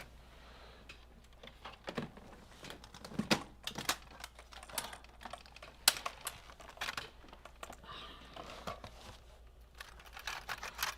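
A keyboard is fitted back into a 23-year-old laptop under repair: a dense run of light plastic clicks, taps and snaps, close and fairly quiet, continuing irregularly for several seconds without speech.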